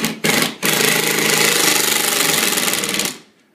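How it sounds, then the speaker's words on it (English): A power drill drives screws into plasterboard: two short bursts of whirring, then a steady, loud buzzing run of about two and a half seconds that stops abruptly and leaves a quiet tail. "when you drill into the plasterboard"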